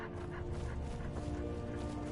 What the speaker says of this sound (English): I do like the dogs.